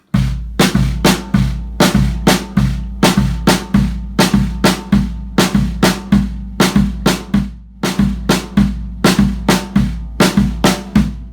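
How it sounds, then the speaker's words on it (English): A four-note Afro-Caribbean phrase tapped on a drum practice pad, a crisp dry pattern repeating steadily in close-up with no other sound around it. "the entirety of this lesson is really going to just be based on a 4-note phrase"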